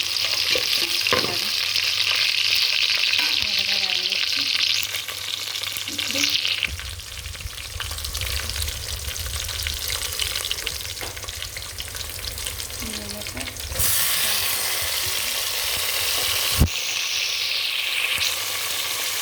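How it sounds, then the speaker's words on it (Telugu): Onions and green chillies fry with cardamom and cloves in a pan for tomato rice, a loud, steady sizzle that runs throughout with occasional stirring scrapes and brief clinks. "వేగుతున్నాయి."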